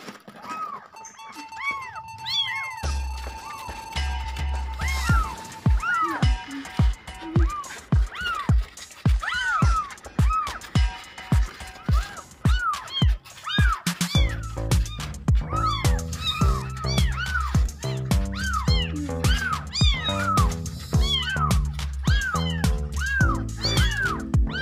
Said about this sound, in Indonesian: anak kucing yang nyong-nyong lagi nyari induknya gitu